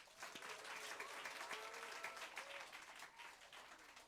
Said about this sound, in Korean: 이번 학기 고생하신 알프로 리더들에게 다시 한번 박수 주세요.